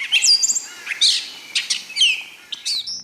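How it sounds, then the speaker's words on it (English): A gray catbird sings a loud, close series of varied chirps and squeaky whistled phrases, broken by short pauses, with no other sound around it. "This is the gray catbird."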